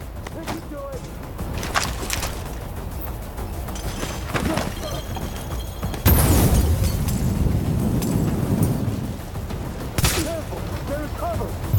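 Gunfire and a heavy explosion strike a tank in The Division, a dense fusillade of shots running throughout with a loud blast near the middle, while voices talk over the combat.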